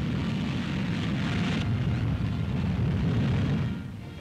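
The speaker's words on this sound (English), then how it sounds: "the huge missile takes off." A captured German V-2 rocket launching at White Sands, New Mexico, produces a loud, sustained roar that holds steady for about four seconds and then begins to fade.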